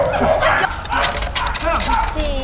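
Dogs at a dog training center in Hwaseong, Gyeonggi Province bark and yip in short lively bursts under a busy mix of voices and outdoor noise, close and loud throughout.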